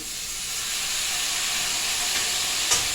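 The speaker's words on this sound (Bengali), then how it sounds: "মশলা ভাজার জন্য একটু জল দিয়ে দিলাম" Spices fry in a pan for an egg curry right after a little water goes in, giving a loud continuous steamy hiss and sizzle close by, with a brief knock near the end and no talking.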